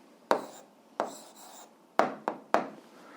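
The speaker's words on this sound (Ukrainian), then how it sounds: "Зараз записуємо відповідь, пишемо відповідь." Pen on paper writing out the answer to an 8th-grade algebra exercise: five quick scratchy strokes, irregularly spaced and close by, each a sharp onset that fades fast, with quiet between them.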